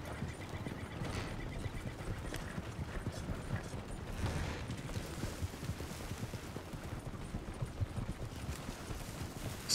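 Several horses clip-clopping along a road in the Red Dead Online video game, a continuous, uneven patter of hooves with faint mechanical clicks underneath.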